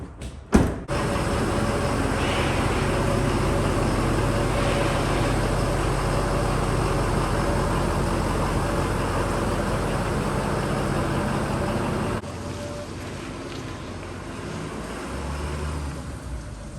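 A Toyota Chaser JZX100 with a 1JZ engine runs steadily and fairly loud while it backs out of a tight shop, following a sharp opening clunk, then the sound drops quieter toward the end with no talking.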